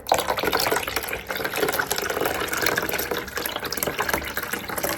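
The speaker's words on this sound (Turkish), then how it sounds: "Şu şekilde süzüyorum arkadaşlar." Garlic-infused water is strained for watering plants, a steady close pour of liquid splashing and trickling through a strainer into a container, continuous and fairly loud with no talk.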